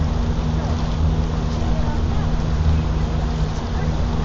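A boat engine drones steadily on Kaunas Reservoir, a loud continuous low hum close to the microphone with wind rush over it.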